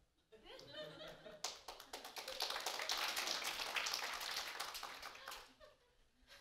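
A church congregation bursts into applause, the clapping swelling from a few early claps into a dense, sustained round before tapering off, with some light laughter mixed in.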